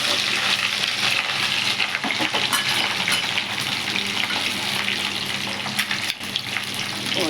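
Steady, dense sizzling of chopped raw mango frying in hot oil with chillies and curry leaves, continuous and close, with faint clinks and a soft scrape partway through.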